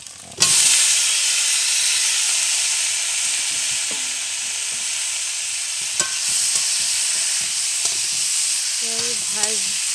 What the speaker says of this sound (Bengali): এবার আমার ফুলকপি ভাজাটা দিয়ে দেবো।